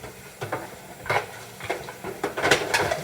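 A metal pan and strainer handled in a home kitchen while preparing cranberry beans for freezing, producing a series of close, irregular clanks and scrapes with brief rattles between them.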